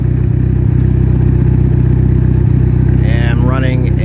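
A Mitsubishi Evo with a full 3-inch Megan exhaust and cams idles loudly up close, a deep, steady, lumpy burble with rhythmic pulses throughout; a voice speaks briefly over it near the end.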